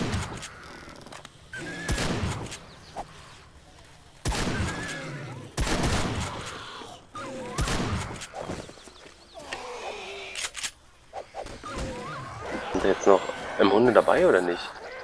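Gunfire in the zombie survival game 7 Days to Die: several sharp single shots spaced through the clip, some with rumbling tails, mixed with game noises and someone talking over them.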